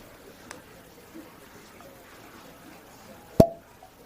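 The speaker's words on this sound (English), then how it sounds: "Let's go ahead and pop the cork on this spirit and take a look at it in the glass." A cork pops from a Garrison Brothers whiskey bottle: one sharp, loud plop stands out near the end, after a faint small click earlier, with quiet room tone between.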